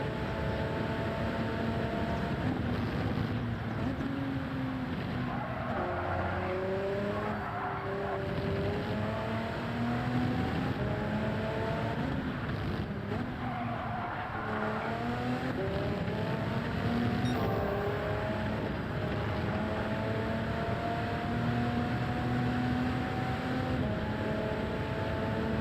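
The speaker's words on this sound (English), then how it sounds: "Love the sound on this car." Race car engine in Gran Turismo 7 during a daily online race, a steady loud drone with rising and falling pitch sweeps as the car accelerates through gears and lifts for corners, running continuously throughout.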